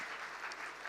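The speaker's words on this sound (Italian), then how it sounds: "Grazie Elisa, grazie mille, l'applauso giustissimo." Audience applause at a live Italian talk show, a dense steady wash of clapping hands filling the whole moment without pause, moderately loud and close.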